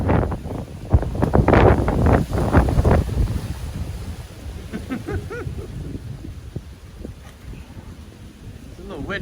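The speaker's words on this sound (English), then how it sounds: "It's a little windy." Gusty wind buffets the microphone outdoors during a window-screen repair job in Brevard County, Florida, a steady rough rumble that swells early and then eases, with people talking over it throughout.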